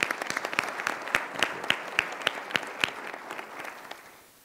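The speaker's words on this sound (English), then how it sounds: "I'd also like to give another round of applause to State Farm" A small luncheon audience applauds a corporate sponsor, a thin round of clapping with individual sharp claps clearly separable, fairly close, tapering off toward the end.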